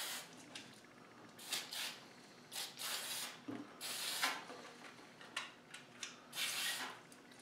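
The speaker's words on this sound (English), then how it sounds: "We're going to go ahead and spray the pistol down." Short hissing sprays of an aerosol brake cleaner can onto a Glock pistol come in irregular bursts, some brief and some longer, close by with no talking.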